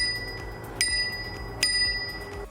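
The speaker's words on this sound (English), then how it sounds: "The left-hand grip has the power on-off button and an adorable little bell." Small handlebar bell on a DYU D3F electric bike dinged twice, each a bright metallic ring that decays quickly, close up over a low background rumble.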